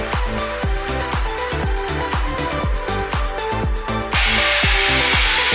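A power drill boring into a wall to fit a switch during a home studio setup, running in a steady series of short repeated bursts, loud and close, with a harsher sustained whine near the end.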